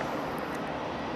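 Steady broadband roar of an EasyJet Airbus A319 jet airliner at Madeira Airport on a hot afternoon, a continuous engine rumble and whine filling the short stretch with no voices.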